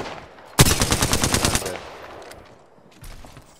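A rapid burst of automatic gunfire in a first-person shooter video game, loud and close, rattling for about a second before fading, with faint further shots afterward.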